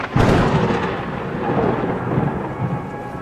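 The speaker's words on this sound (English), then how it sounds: "So that thunder and lightning" A thunder sound effect: a loud crack opens into a long, heavy rumble with a rain-like hiss, and it stays loud and close before slowly easing off.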